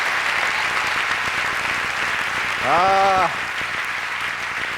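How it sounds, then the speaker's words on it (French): An awards-gala audience applauds a nominee with steady, broad clapping throughout, and a brief voiced exclamation cuts through the middle. "Jean-Luc Mongrain, on l'applaudit"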